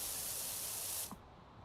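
A pressure washer sprays in the video game PowerWash Simulator, a steady loud hiss that cuts off sharply near the end, leaving faint background noise.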